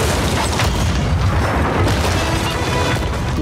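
Dense, continuous booming from ship cannons firing in a pirate video game, heavy low rumble and overlapping blasts with no clear gaps, loud and close.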